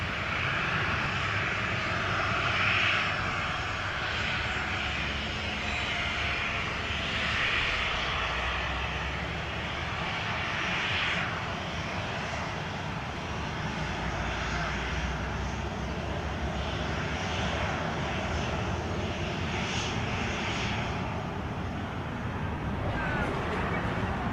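An American airliner's engines roar on the runway at Montego Bay, a steady, fairly loud broadband rumble and whine that holds throughout without a break.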